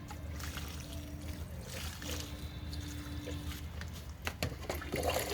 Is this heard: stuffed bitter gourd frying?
no